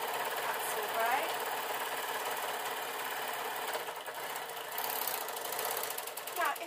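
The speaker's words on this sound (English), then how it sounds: "the nice thing about the overlocker is it cuts and sews" A serger overlocker stitches a denim skirt built from leftover fabric, giving a steady, close mechanical whirr with a continuous rapid needle chatter that holds nearly unbroken throughout.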